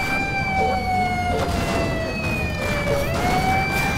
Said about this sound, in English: Wee-woo-wee-woo. Call the ambulance.